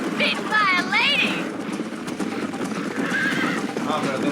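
A horse in the Red Dead Redemption video game neighs loudly and shrilly near the start while its hooves gallop in a steady clip-clop beneath, with a voice talking over the hoofbeats.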